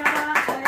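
Quick rhythmic hand clapping from family members at a birthday party, three brisk claps in close succession, near and moderately loud.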